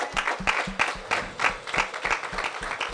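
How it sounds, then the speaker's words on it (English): Clapping at a memorial service, with a congregation keeping a rhythmic, evenly spaced beat of claps close by, almost like steady time-keeping rather than loose applause. "Give them a clap for me, please."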